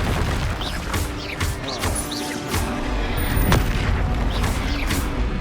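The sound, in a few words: spell explosions in the video game Hogwarts Legacy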